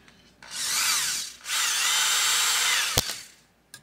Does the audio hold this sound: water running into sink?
no